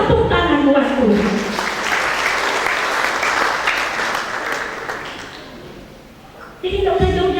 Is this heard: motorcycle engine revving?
no